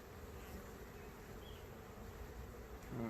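Honeybees buzz around an open hive during an inspection, a dense, steady swarm hum held close and even throughout, with no talking.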